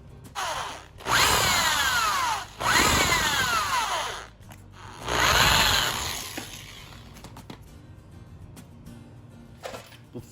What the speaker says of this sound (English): I have a drill bit that looks like it's big enough to take the head off this rivet.